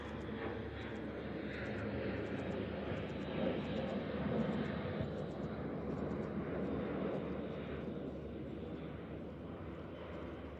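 An Airbus A400M military transport aircraft flies low and slow at a NATO Days air show with its rear loading ramp down. Its propeller engines give a steady, broad roar that swells slightly and then eases.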